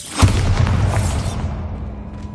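A Bombarda blasting spell explodes in the Hogwarts Legacy video game: one loud, close boom strikes suddenly and then rolls away into a fading rumble.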